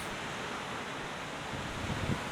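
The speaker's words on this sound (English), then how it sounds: "For surfers, these waves are sacred space." Ocean surf at a break where surfers sit waiting for sets, a steady wash of breaking waves with wind buffeting the microphone, continuous and fairly distant.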